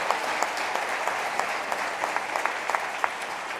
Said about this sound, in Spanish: Denle un fuerte aplauso al Señor si usted quiere ver las cosas que nunca antes ha visto.